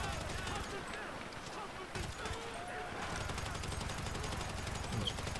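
Rapid first-person gunfire from a gang attack in the video game GTA 5, bursts of shots crackling steadily through the clip amid busy game ambience.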